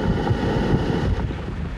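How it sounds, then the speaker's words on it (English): Strong, continuous hurricane wind at about 57 miles an hour roaring and buffeting the microphone as the storm moves inland, a dense steady rumble with no letup. "it does remain very windy with the storm moving inland"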